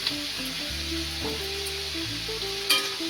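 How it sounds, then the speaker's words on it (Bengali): Salted vegetables for egg pulao fry in a pan with a steady close sizzle and a few stirring scrapes, while background music with sustained tones plays along. "ভালো করে সবজিটা ভেজে নেব"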